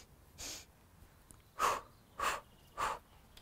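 A person is breathing in a slow rhythm, in through the nose and out, timed to walking steps in the Afghan walking technique. Four soft, separate breaths come at steady intervals, close by and quiet, with no talking.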